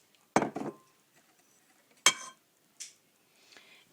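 Walnut kernels pounded and coarsely crushed with a pestle for a walnut tart: a few sharp, close knocks with brief crunchy clatter, separated by pauses, the last ones softer.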